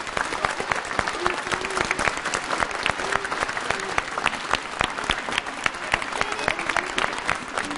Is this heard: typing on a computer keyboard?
no